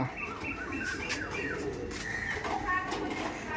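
An Andhra pigeon coos softly in a loft, repeated low murmuring calls alongside light chirps and background chatter.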